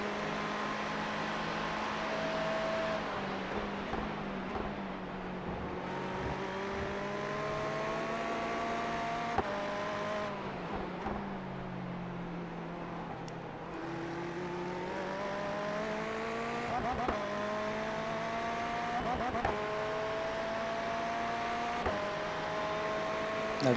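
Ferrari 488 GT3 in iRacing at the Nurburgring, tucked into another car's slipstream on the back straight: a steady, loud engine drone climbing in pitch through the gears, with brief dips at shifts, no voices.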